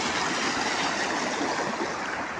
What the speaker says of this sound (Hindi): अब अच्छा पानी आया हुआ है तो चारों में से पानी निकल रहा है इसमें